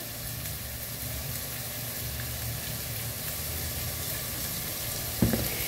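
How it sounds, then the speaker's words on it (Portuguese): Chopped onion frying in olive oil in a pan with garlic, cumin and paprika, a steady close sizzle that holds evenly throughout, with one brief clink near the end and no talking. "Então agora eu vou deixar refogar bem essa cebola."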